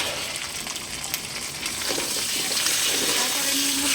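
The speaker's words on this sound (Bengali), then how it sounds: "পেঁয়াজটা ভাজা ভাজা হয়ে গেছে, মাছের তেলটা দিয়ে দেবো।" Fish fat sizzling as it joins onions frying in a pan, a steady close crackle that grows slightly louder in the second half, with no talk over it.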